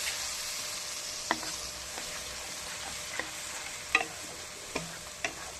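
A Bengali dish being cooked down in a pan with a little water and spices gives a steady, soft sizzle. Sharp spatula scrapes and taps break through every second or so, with no talking.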